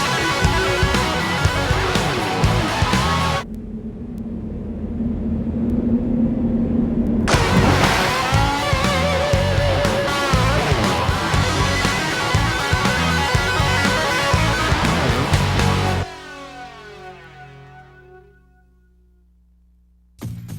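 Racing car engines from a 1999 Midway racing game promo, loud and close, roaring and revving continuously with brief drops, then a fading whine and near silence before a final burst.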